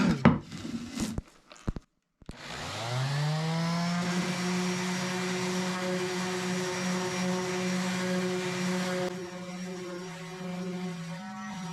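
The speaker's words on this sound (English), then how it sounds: "I'm going to give them a quick sand." Power sander spinning up and running steadily across pallet wood boards, a loud close droning whine with a continuous tone after a few brief handling knocks.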